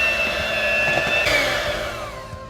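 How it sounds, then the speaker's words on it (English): An electric hand whisk runs loudly and steadily, whipping a thick homemade face and body cream butter in a bowl, its motor whine holding then easing slightly in pitch with no voices. "So we're just gonna take it and just whisk it."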